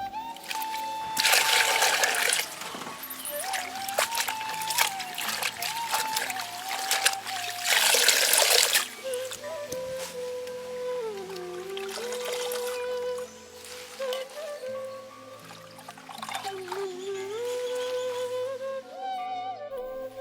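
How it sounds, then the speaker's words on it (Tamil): Sorrel leaves being rinsed in water, with splashing and dribbling bursts over steady background music, loudest in two stretches early on and then softer trickling. "எடுத்த புளிச்சக்கீரையில் மண் இல்லாமல் சுத்தமாக அலசி எடுத்துக்கலாம்"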